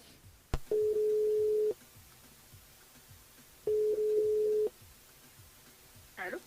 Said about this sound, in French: nous appelle Elodie sur le standard